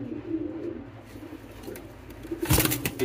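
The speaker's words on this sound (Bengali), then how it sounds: "হাসি খুশি দেখা যাচ্ছে আমার কবুতরগুলা।" Pet pigeons coo in low, soft throaty rolls close by, with a sharper burst of wing flutter or movement near the end.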